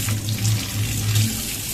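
Water streams steadily from a kitchen-style tap fitted with an aerator nozzle, a soft even hiss with a faint low hum underneath, close and continuous.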